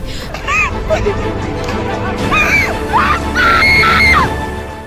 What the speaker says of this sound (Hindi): चारों ओर चीख पुकार मची हुई है।